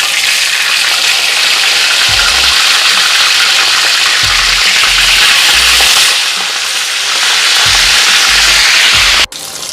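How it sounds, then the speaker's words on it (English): Fish fry in hot oil in a pot, a loud, steady, close sizzle that holds throughout with a few low bumps and a brief clatter near the end. "Now we're gonna put the fish in the pot."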